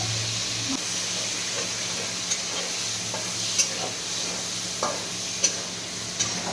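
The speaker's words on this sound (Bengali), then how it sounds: "এখন পনিরগুলো ভেজে নেবে" Paneer pieces, cut small, fry in oil in a kadai, giving a steady close sizzle with a few sharp spatula scrapes and pops over the hiss.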